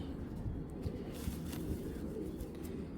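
A female racing pigeon coos close by in low, rolling, throaty bursts that repeat without pause over the short stretch, with faint ambient noise behind.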